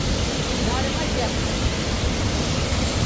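Rushing water at Thoseghar waterfall near Satara makes a loud, continuous broadband roar that fills the scene, with faint voices buried beneath it.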